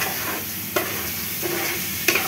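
Raw rice fries in hot oil for pulao, giving a dense steady sizzle close by. Sharp spatula scrapes and clinks against the pot are heard about twice in a short span.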